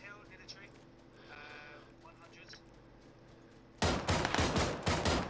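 Faint voices and background game noise in PlayerUnknown's Battlegrounds, then a sudden burst of rapid, loud gunfire in quick succession toward the end.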